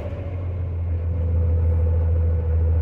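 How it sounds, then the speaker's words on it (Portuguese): A Ford Cargo truck engine runs steadily to build air pressure, giving a loud, close, continuous low rumble with a constant drone and no talking. "Eu tô fazendo ar no Ford Cargo"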